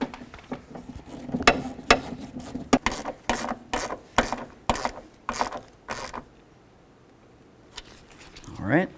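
A ratchet snugs up bolts on the door of a Chevy K1500 pickup, giving rapid bursts of clicking pawl strokes, close and loud, with pauses between runs and a scrape near the end.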